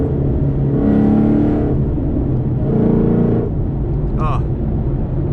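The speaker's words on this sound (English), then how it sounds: "you just give it a couple like crisp, clean downshifts" A Ford Mustang GT engine blips in two loud, rising revs during downshifts, heard close and steady inside the car, with a brief higher whine near the end.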